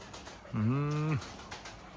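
A single soft, drawn-out coo from one of a keeper's Almaty pigeons rises close by against a quiet background.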